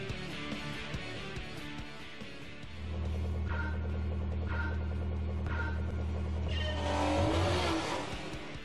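A race car in Gran Turismo 4 Prologue on PS2 works through turns. The engine holds a steady hum and then revs harder, with repeated brief chirps and a louder surge near the end.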